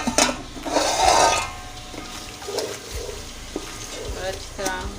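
Taro root and chicken fry in a pot while a spoon stirs and scrapes, producing a soft sizzle with intermittent clinks and knocks against the metal, moderately close and steady.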